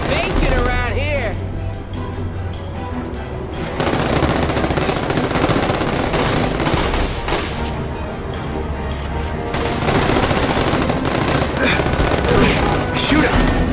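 Rapid bursts of automatic gunfire from The Amazing Spider-Man 2 video game, dense and continuous over game music and effects, with voices shouting in between.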